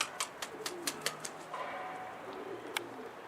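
Tumbler pigeons coo softly from close by, with a run of sharp chirps and flutters over steady outdoor background noise.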